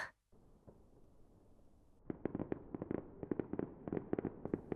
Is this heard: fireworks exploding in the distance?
yes